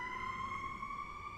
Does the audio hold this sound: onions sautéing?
no